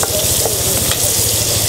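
Steady, loud sizzling of onions frying in a hot pan, with a rhythmic low pulsing and occasional stirring clicks, no talk.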